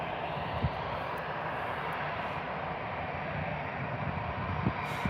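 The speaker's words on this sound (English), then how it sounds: "we've got the A320 from Vueling heading back to Barcelona. It's just taxiing down now." A Vueling Airbus A320 taxis at Birmingham airport, its engines making a steady, loud, broad roar that holds even throughout, with no talking.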